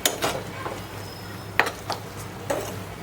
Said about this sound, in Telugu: కొంచెం ఈ అల్లం పచ్చివాసన పోయేలాగా వేయించుకుందాం